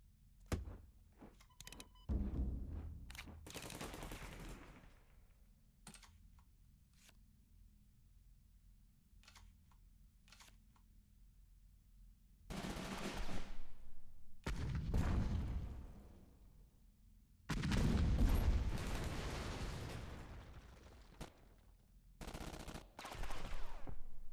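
Extended artillery barrage in the Kards card game, with scattered sharp shots early on followed by several long, loud bursts of rolling gunfire separated by quiet stretches, no talking.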